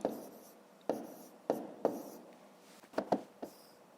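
Pen strokes scratch on paper as numbers are written out during a fifth-grade math factoring exercise, a quiet series of short, uneven scribbles with brief pauses between them.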